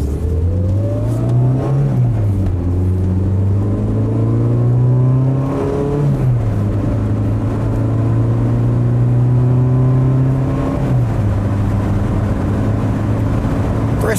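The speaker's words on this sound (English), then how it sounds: "I think we'll do a mild acceleration test" Renault 21 GTS accelerating under mild load, engine note climbing steadily through the gears with two clear upshifts, a sustained near, loud in-car drone with no talking.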